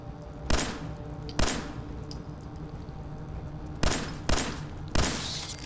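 Single gunshots in Fallout 4 played in VR: five sharp, separate cracks spaced irregularly over a quiet, low background, each decaying quickly, with no talk.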